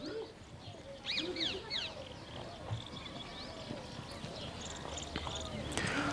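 A stud-farm horse in Jodhpur, India, walks with soft, scattered clip-clopping hooves, heard under people talking nearby while birds chirp and doves coo in the background.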